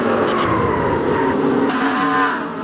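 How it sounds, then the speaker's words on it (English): Race cars in a Pokemon NASCAR video game at Darlington wreck, with loud sustained engine roar and tire squeal as the cars skid and collide, no talking. "Wow, and a big crash here. Big wreck."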